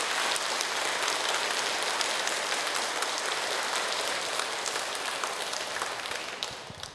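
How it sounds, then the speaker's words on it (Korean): Audience at a talk on Saint Francis gives a round of applause, a dense, steady wash of clapping from many hands that holds evenly for several seconds and tapers slightly at the end. "우리 프란치스코 성인을 위해서 감사의 박수 한번 보내주시죠"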